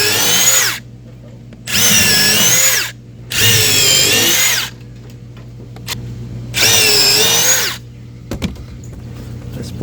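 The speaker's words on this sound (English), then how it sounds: "I'm drilling a hole. Goes in nice and fast." A power drill bores holes into pool deck boards in four loud bursts of a few seconds each, with each burst rising and then winding down, separated by short quiet gaps and a faint clunk near the end.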